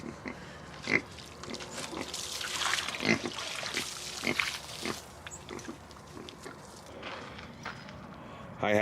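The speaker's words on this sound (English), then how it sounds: "Good morning, Miss Piggy." Pig grunting at morning feeding time on a farm: several close, low snorting grunts scattered among shuffling footsteps and wet rustling, with a little talking at times.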